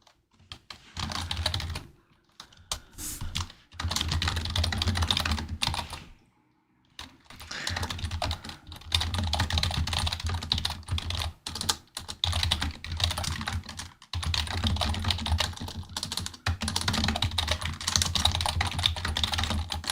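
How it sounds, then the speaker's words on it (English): Computer keyboard typing clatters in dense, fast bursts almost continuously for the whole stretch, close and loud, with only a few short pauses between runs of keystrokes. "Sorry, I'm typing."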